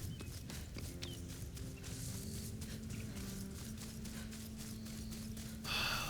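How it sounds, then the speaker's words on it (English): Footsteps through grass in the video game Horizon Forbidden West, a steady series of soft swishing, rustling steps over low ambient game tones and hum, close but quiet, with a brief louder rustle at the end. "Here's the footsteps in the grass."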